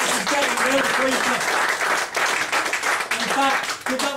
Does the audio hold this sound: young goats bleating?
no